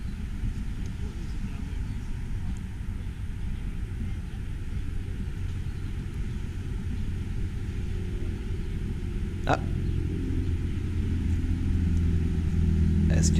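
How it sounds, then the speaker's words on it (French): A large truck rumbles somewhere in the distance on a New York street, a low, steady drone that runs throughout, with a brief voice and a sharp faint click partway through. "ça ressemblait davantage à un gros camion qu'on entendait de loin"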